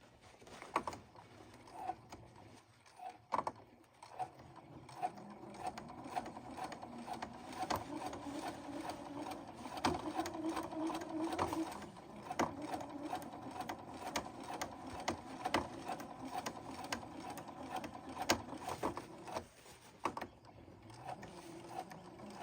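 A sewing machine hems the bottom edge of a pant leg, running slowly with a steady rapid mechanical chatter of needle strokes, quiet and close, pausing briefly near the start and again near the end.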